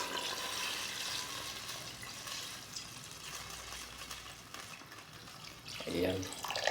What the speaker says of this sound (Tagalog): Ayan, lagyan ko na guys ng sabaw.